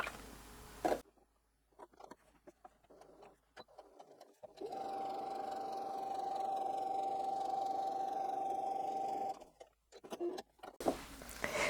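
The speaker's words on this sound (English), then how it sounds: "we're going to sew right down the center" A sewing machine stitching straight down the center of quilt strips, running in one steady whirring burst of about five seconds, with quieter handling sounds before and after.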